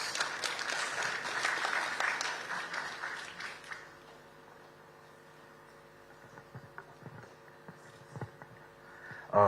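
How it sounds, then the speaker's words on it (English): Applause from a morning audience welcoming a 14-year-old youth climate champion at Uganda Water and Environmental Week, fairly soft and scattered, fading after a few seconds into quiet room noise with faint stray sounds. "Let's welcome this young man with a round of applause"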